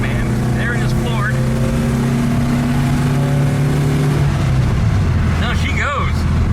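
An automatic VW Type 3 accelerates hard at full throttle on mucky roads, the engine note rising in pitch, dropping at a shift, then climbing again, loud and close inside the car while someone talks over it.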